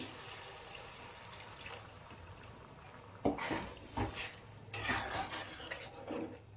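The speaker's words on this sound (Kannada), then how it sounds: "ಈಗ ನಾವು ಸ್ವಲ್ಪ ನೀರನ್ನು ಸೇರಿಸಿ" Water poured into a pan of potato and green pea kurma, a quiet bubbling hiss with splashy bursts and a few clinks of metal as the liquid goes in.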